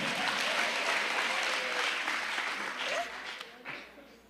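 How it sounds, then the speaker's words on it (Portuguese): A church congregation applauds together at a women's ministry service, a dense, steady wash of clapping that stays loud before thinning out toward the end. "aplaude com força, aplaude com graça"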